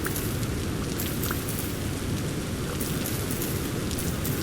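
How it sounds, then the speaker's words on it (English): Steady rain falls continuously in the video game Vintage Story, a soft, even patter with no voices or other sounds. "the rain, it falls almost every day, soft, warm, endless"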